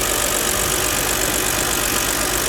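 A written-off BMW 330i non-runner, its engine revived after repair work, runs steadily at idle with a constant, loud, unbroken rumble and no voices over it.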